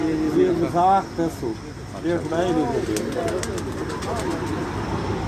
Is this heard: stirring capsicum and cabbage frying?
no